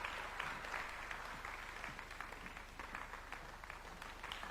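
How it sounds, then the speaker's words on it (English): Sustained but fairly faint audience applause at a Kenyan presidential event at KICC, Nairobi, honouring the President, with a steady low hum underneath throughout. "let's put another warm clap for His Excellency"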